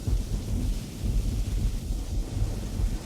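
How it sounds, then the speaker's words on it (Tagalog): A low, steady rumble of thunder rolls continuously, with a windy, rain-like wash and no voices. "Kulog lang iyan, matulog ka na."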